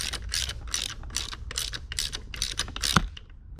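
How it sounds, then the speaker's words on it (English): A ratchet wrench tightens bolts on a Mercury 75-115 outboard water pump, giving quick bursts of sharp clicking in an uneven rhythm of about eight strokes, close and crisp, with no talking. "Now we're just gonna start tightening them down."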